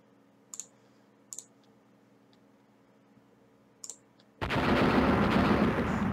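Naval gunfire in the strategy game Rule the Waves: a few sharp, isolated gun reports spaced apart, then a sudden loud sustained roar of heavy fire.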